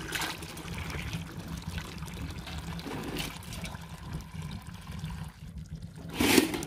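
Hot water pouring from a homemade desi geyser filled with snow in Spiti, a steady close trickling stream with a brief louder splash near the end, no talking.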